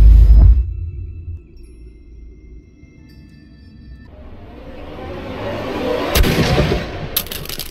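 A single loud gunshot opens the scene in Sherlock Holmes: Crimes and Punishments, followed by a fading low rumble, then sharp impacts and noise swelling toward the end.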